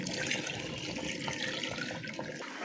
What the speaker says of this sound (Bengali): প্রায় এক কেজি পরিমাণ নারিকেলের দুধ দিয়ে দিচ্ছি